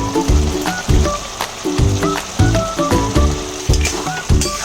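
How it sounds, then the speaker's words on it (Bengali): Fig and prawn curry gravy simmering at a steady boil, with bubbling pops and soft sizzling in a regular pulsing rhythm, close and moderately loud with no voices. "ঝোল আমার বেশ ভালোভাবে ফুটে গেছে"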